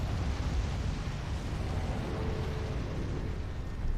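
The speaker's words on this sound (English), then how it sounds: "Don't you breathe fire at me." Borealis the Freezing Fog, a dragon boss in the Elden Ring video game, unleashes a sustained roaring breath attack, a loud, dense rush of noise that holds steady for the full few seconds with no talk over it.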